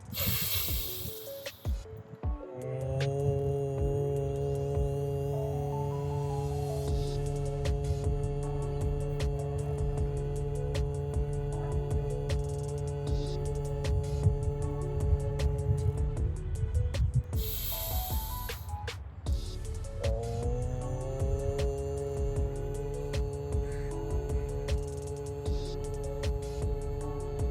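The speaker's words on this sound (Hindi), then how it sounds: "हमें लंबी गहरी सांस लेनी है और सांस को ओम की ध्वनि के साथ बाहर छोड़ना है।" A long, sustained hummed Om chant during Udgeeth pranayama, a steady droning tone held for many seconds on a slow exhale, broken once by a short breath before the chant resumes, fairly close and calm.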